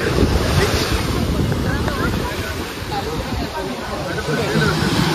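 Steady wind buffeting the microphone at a busy Goa beach near a boat and water-sports ride area, with surf rolling underneath; a continuous, loud roar with no clear talk.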